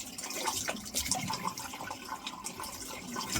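Tap water runs and splashes in a sink as someone rinses minty facial product off their face, a close, steady spattering with irregular splashes and no talking.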